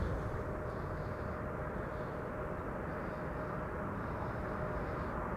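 A Boeing 777-200 airliner, seventeen years old, arriving at Amsterdam Schiphol on a sunny morning, heard as a steady, continuous broadband jet roar that holds level throughout without breaks.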